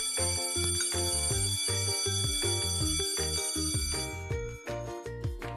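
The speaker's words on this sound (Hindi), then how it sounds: "स्कूल से छुट्टी की घंटी बजी" An electronic school bell rings out a rapid repeating chime melody, loud and close, with no voices.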